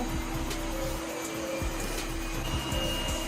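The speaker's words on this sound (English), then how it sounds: "the Yeedi Mopping Pro goes a little bit faster off the charging base than the Vac 2 Pro" A Yeedi Mopping Pro robot vacuum mop pulls away from its charging base with a constant close whirring motor hum, broken by a few soft bumps and clicks.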